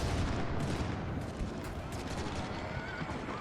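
Gunfire and artillery from a large battle in Europa Universalis IV sound as a dense, continuous crackle of shots and booms, mixed with horse whinnies and hoofbeats, steady and busy from start to finish.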